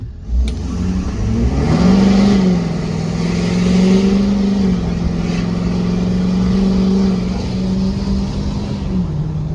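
Lifted diesel truck, about ten years old and running a street tune, accelerates on a road with a deep engine drone whose pitch climbs and holds through steady throttle, loud and close throughout.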